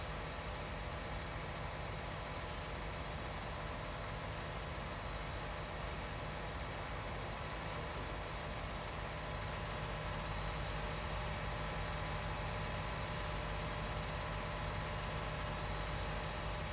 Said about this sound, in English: Bit of a haul up that hill for the tractor, but that's managing it alright.